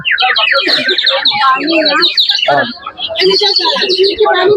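A water-filled whistle toy at a flower show in Bengaluru's Cubbon Park warbles and trills loudly in rapid bursts, imitating a chirping parrot, with a brief pause midway.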